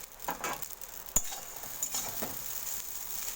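Chopped boiled egg and green chili go into a hot pan for a pasta dish, bringing a soft steady sizzle, one sharp metallic clink and a few light stirring scrapes.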